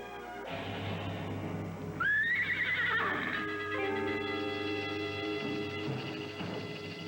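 Horses whinny loudly and repeatedly in an open outdoor setting, with a long rising neigh in the middle and faint hoof clops underneath, no talking.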